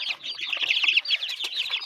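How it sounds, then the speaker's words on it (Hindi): A hen clucking and flapping its wings at a small zoo, a close, busy burst of clucks mixed with rustling wing beats, with no talk over it. "ये मेरे ख्याल से मुर्गी लग रही है"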